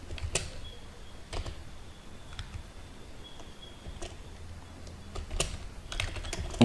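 Typing on a computer keyboard, with steady close key clicks in irregular bursts against a quiet room.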